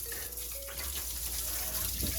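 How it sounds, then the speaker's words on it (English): Hot water runs steadily from a kitchen tap into a sink to soak dishes, a constant close rushing gush with no voices. "get some hot water in here to start soaking this whole while the last few cook"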